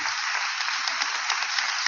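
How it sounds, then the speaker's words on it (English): An audience at a technical high school signing day applauds in a steady, continuous clatter of many hands, fairly soft and even from start to finish with no voices over it. "So a round of applause to Ray and Beth for coming."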